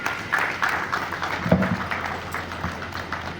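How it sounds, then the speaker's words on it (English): An audience claps through a speech event, a moderate burst of applause with scattered louder claps, fairly close and steady before trailing off. "A round of applause for Eze. A better one, please."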